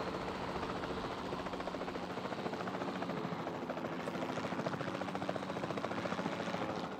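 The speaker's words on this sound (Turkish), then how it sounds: "Helikopterin sesi bayağı fazla çıkıyor çünkü." A helicopter in the video game Jurassic World Evolution 2 gives a loud, steady rotor drone with a constant beating texture that fills the whole stretch, with no talk over it.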